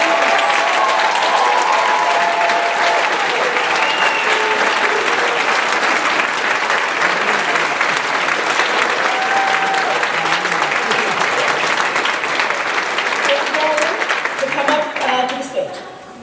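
Sustained, loud applause fills a graduation celebration hall for environmental studies graduates, a dense roar of many hands clapping with some crowd noise, continuing for many seconds before tapering off at the end.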